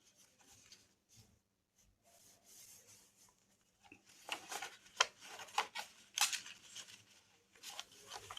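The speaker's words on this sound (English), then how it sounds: "So fold it just like this, just like if you were to fold an envelope." Sheets of paper being folded like an envelope by hand while decorating an altered book: soft scattered rustles and creases, quieter at first, then a run of sharper crinkling strokes in the second half, with no talking.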